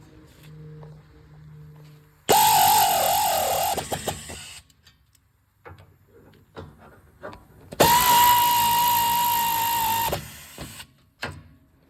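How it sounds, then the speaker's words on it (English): A power tool runs in two loud bursts, about two seconds each, while tightening the brake caliper bolts on a 2013–2020 Ford Fusion. Quieter clicks and handling noises fall between the bursts. "And then start and reinstall your caliper bolts."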